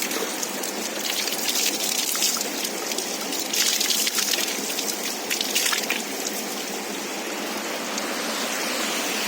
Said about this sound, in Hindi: ये देखिए यहाँ पर पानी आ रहा है जो कि बहुत ही ठंडा पानी रहता है,